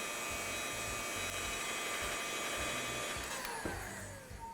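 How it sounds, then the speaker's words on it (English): A heat gun blows steadily and close up while warming the old label on a DeWALT impact driver housing, a continuous loud whooshing hum with an electrical whine, no talking. "I'll warm up the label with the heat gun"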